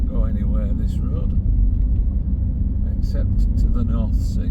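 Car driving along a narrow coastal road above eroding North Sea cliffs in Yorkshire, a steady loud engine and road rumble filling the whole stretch, with someone talking continuously over it.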